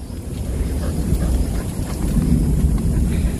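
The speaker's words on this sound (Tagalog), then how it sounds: "Kumukulog siya. Naririnig nyo yan guys." Low, continuous rumbling of thunder through a morning walk outdoors under threatening weather, a steady heavy roll lasting throughout with some wind buffeting on the microphone.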